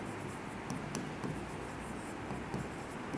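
Pen on paper writing out a quadratic equation by hand, a steady close scratchy rasp with small tapping accents, unbroken for a few seconds over a constant room hiss.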